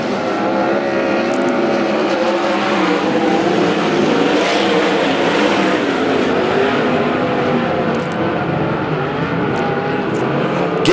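Sprint cars race around the Central Arizona Speedway dirt oval, their engines a loud, continuous roar that holds steady throughout, with no voices heard.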